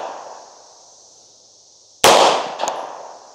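A single sharp shot from a Tisas B9R double-stack 1911 pistol, loud and close, ringing out suddenly after quiet and decaying over about a second, with no talk.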